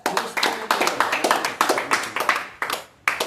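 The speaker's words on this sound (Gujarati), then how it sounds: "તાળી પાડો બધા." A class of children claps together in a steady, rapid burst of hand claps that fills the room, ending with a short pause and one final clap.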